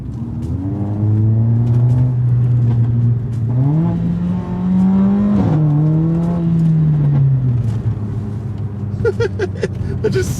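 A Mercedes-AMG A45 driven in manual mode accelerates hard through several gear changes, its engine rising and dropping in pitch with a loud, close growl, ending with crackles on the overrun.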